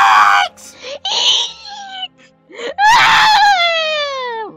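An animated character in a mystery game screaming, several drawn-out wailing cries, the last one long and loud with a falling pitch, separated by short gaps.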